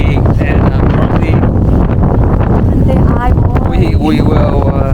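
Strong wind on a mountaintop batters the microphone with loud, continuous roaring gusts, while a voice talks underneath the buffeting.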